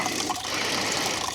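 Old gummed-up fuel mixed with rust and water drains out of a long-sitting Honda Shadow 1100 motorcycle, a steady close splashing trickle that runs without pause and without talk.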